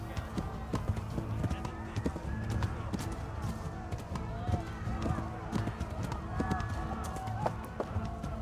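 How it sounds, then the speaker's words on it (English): Rapid clip-clop hoofbeats of a galloping horse in Kingdom Come: Deliverance, steady and fairly loud, with background game sounds and occasional voice. "you gotta keep pressing B to gallop"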